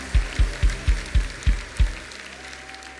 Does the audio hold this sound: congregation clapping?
yes